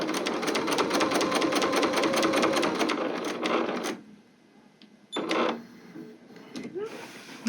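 Sewing machine stitching a project bag, a fast steady run of needle strokes for about four seconds, then a pause, a short burst and a few faint clicks as the presser foot is handled.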